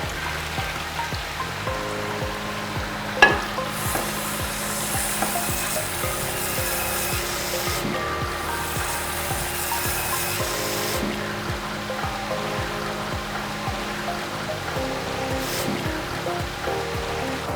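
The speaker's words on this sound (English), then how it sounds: "You can see the force of the gushers allows the food soil to travel down." Water gushers flushing food waste from a plate down a waste collector trough, a steady rushing, splashing spray with small clatters and one sharp knock, continuous at close range and without speech.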